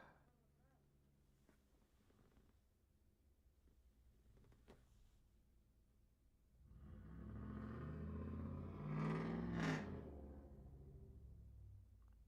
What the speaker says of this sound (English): That was a loud ass truck